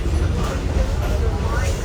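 Low steady rumble of a passenger train rolling along rails near Parrish, Florida, a continuous close drone with faint rattles and a voice talking over it.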